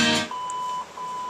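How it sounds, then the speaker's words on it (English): A car stereo fitted to a 1967 Chevy Nova gives a short electronic beep as the fader or tone is adjusted: a clear pure tone after a brief burst of noise, then fainter repeated blips. "Now we found it's going to beep once"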